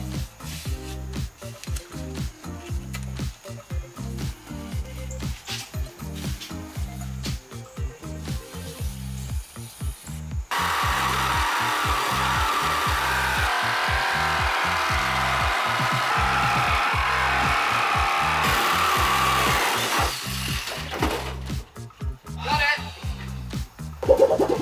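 A hacksaw cuts a hole in the metal body of a van with repeated rhythmic rasping strokes, close and fairly loud, then a harsher steady grinding stretch; people talk and laugh around the cutting.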